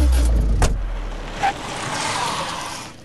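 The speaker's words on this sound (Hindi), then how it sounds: "चलो गाड़ी निकाल।" A car pulls out in a scene from a Hindi film. A low engine rumble comes first with a clunk, and then a steady motor drone carries on throughout. The car is fairly close and no one speaks.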